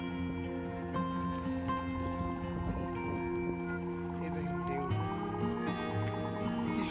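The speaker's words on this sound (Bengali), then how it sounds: "মাছ ধরার ট্রলার আসতেছে আর কি সুন্দর ঢেউ দেখেন" A fishing trawler approaches on the river shore at Mohonpur, Chandpur, giving a steady humming engine drone with shifting tones over wind and lapping waves.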